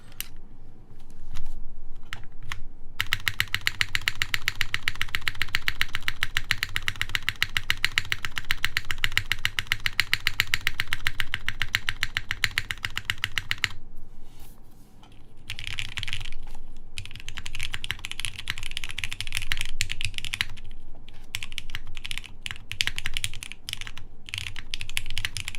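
A Monokei 910 v2 mechanical keyboard fitted with a JMK spacebar is typed on rapidly and steadily, a dense, continuous stream of close keystroke clacks with a brief slowdown partway through and no talking.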